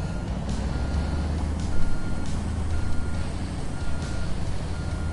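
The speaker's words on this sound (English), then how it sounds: "Alright, so go back to the dump truck." Reversing beeps from a dump truck in the game Construction Simulator 2, a steady repeated warning tone over a continuous low diesel engine drone, no speech.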